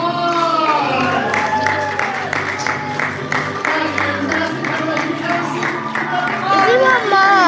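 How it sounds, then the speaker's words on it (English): A crowd at a magic show claps and cheers loudly while several voices talk and call out over the applause. "Give Ari a big round of applause."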